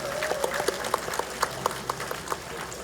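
A crowd at a ceremony in Daegu marking Dongseongno's designation as a special tourist zone claps for lawmaker Kim Ki-woong, with loose, uneven applause and distinct individual claps standing out.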